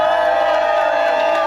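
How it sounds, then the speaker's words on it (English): A crowd at a Renaissance faire cheers and whoops loudly and continuously for a moment, with voices shouting amid the roar. "Another round of applause for the Rose!"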